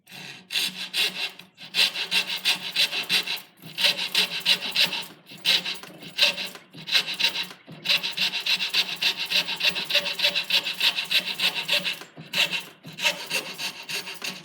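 A fine hand saw cuts dovetails for a wooden school box. Strokes are close and rhythmic, with short pauses between bursts.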